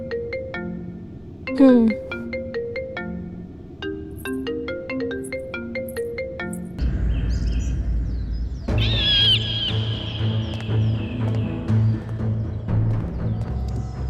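A mobile phone ringtone plays a bright, repeating melodic pattern of short chimes for several seconds, then gives way to a busier electronic tune with a low background rumble.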